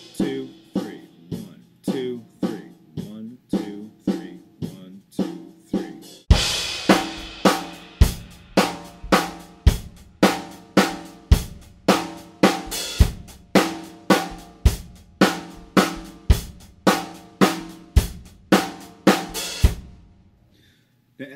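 A drum kit plays a steady groove in 3/4 time, with sharp regular hits in a three-count pattern, sparse at first and then fuller and louder with cymbals, played close and alone with no talking.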